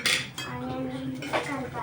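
Onions being stirred in a cooking pan, with metal utensils clinking and scraping against the pan in quick bursts at close range, and a faint voice in the background.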